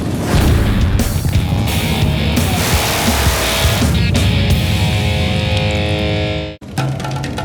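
Motorcycles fire up and ride off from Brooklyn toward a rally, a loud, continuous engine roar with revving swells, then a sudden brief cutout before the rumble resumes.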